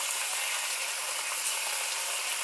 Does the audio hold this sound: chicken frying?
yes